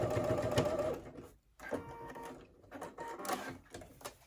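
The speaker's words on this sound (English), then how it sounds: "You take it to your sewing machine, and you can either stitch or really baste the handle down" A sewing machine runs in short rapid bursts of stitching a bag handle onto fabric, pausing briefly between runs, close by.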